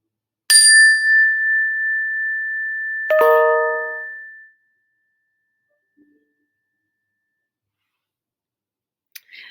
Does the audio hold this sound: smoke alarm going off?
no